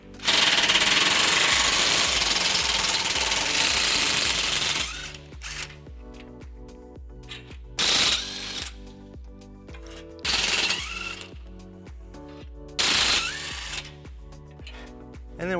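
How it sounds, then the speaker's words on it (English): Bumper horn bracket bolts on a 2012 Fiat 500 come out with a 14mm socket on a power tool: a long, loud continuous whir for about five seconds, then several short bursts of the tool spinning in a workshop. "we're gonna remove them using a 14mm socket"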